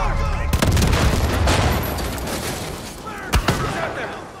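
Gunfire in a Far Cry 5 firefight, a dense roar of shots with a couple of sharp loud cracks standing out, moderately close, with a voice speaking over it.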